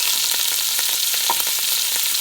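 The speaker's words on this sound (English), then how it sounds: "We should have a few tablespoons in there for to start the onions." Onions start frying in a few tablespoons of hot oil in a single pot for chicken and rice. A loud, steady, close sizzle runs throughout, with faint stirring scrapes underneath and no voices.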